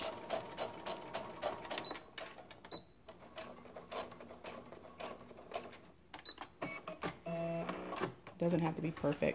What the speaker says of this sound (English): Sew down about an inch, and you can eyeball it.